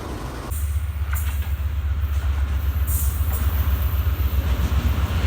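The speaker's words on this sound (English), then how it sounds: "Yes, right now one train going to Karachi" A train bound for Karachi rolls past in Pakistan, a loud, close, continuous rumble with deep low drone and rattling wagons, with brief hissing bursts from the cars.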